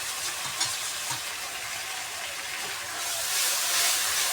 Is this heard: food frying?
yes